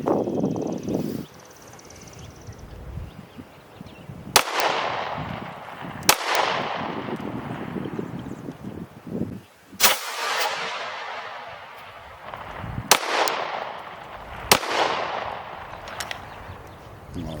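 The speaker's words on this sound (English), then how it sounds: "I'm loaded up with 5 rounds of 124 grain FMJs." A Glock pistol fires five rounds of 124-grain FMJ ammunition, each a loud, sharp crack spaced a few seconds apart, with a short echoing decay after every shot.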